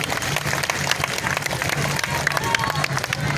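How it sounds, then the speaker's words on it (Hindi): A crowd claps to welcome a woman Congress candidate at a political rally. The dense, continuous applause stays loud throughout, with a murmur of crowd voices underneath. "तालियां बजा के उनका स्वागत कर"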